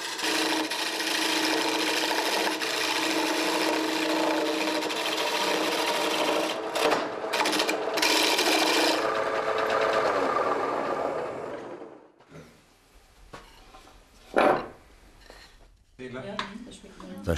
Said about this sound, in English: When the farmer works the lathe, the fragrance of fresh wood fills the workshop.